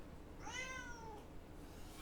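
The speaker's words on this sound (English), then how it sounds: "If you hear a cat meowing, guys, that's not in your house, it's in mine." A domestic cat gives a single clear, drawn-out meow, faint and somewhat distant, rising then falling, against a quiet background hiss with no talk.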